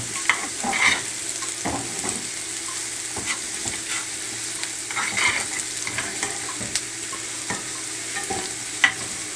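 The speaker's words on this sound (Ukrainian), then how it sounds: "ми вже смажимо цибульку і з морквою" Steady sizzling and crackling of onion and carrot frying in a pan for borscht, with occasional scraping stirs and a faint low hum underneath; no voices.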